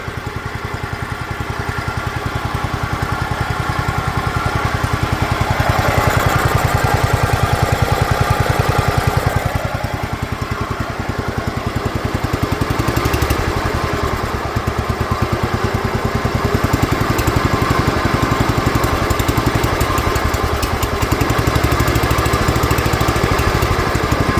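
A Kohler K241 engine on an abandoned 1969 John Deere runs steadily and loudly for the whole stretch, with a throaty mid-range drone and brief swells in revs, and no talking over it.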